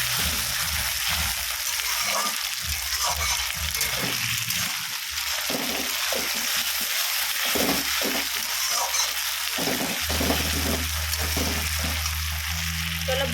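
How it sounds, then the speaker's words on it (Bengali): Ginger and garlic paste fry in a pan with a steady, close sizzle and hiss. A low hum runs underneath, and there are brief stirring sounds. "চলো আদা বাটা আর একটু রসুন বাটাও দিয়ে দিলাম, এটাকে ভালো করে ভাজতে হবে।"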